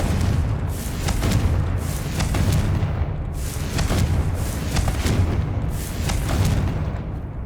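Confringo spell blasts in Hogwarts Legacy roar as a dense, loud, continuous rumble, with fiery bursts pulsing roughly once a second throughout.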